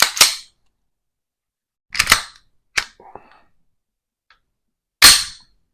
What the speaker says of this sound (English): Ooh, the slide lock is pretty tight